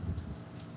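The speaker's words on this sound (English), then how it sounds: "Tim, we are getting more rain" Steady rain falls during a wet, thundery day, a soft continuous patter with a low rumble underneath, heard alone without any talking.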